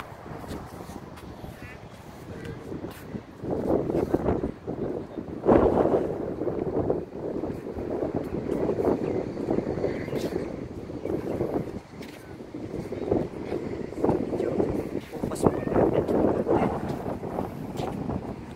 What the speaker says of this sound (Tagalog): Para makinig mga dyan kasi maingay po yung hangin.